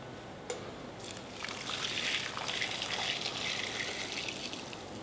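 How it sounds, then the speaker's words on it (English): Egg and milk custard mixture poured through a strainer into a saucepan, a soft continuous trickling and splashing that builds after a brief clink and carries on steadily to the end. "I'm going to pour my egg mixture through a strainer and back into the saucepan."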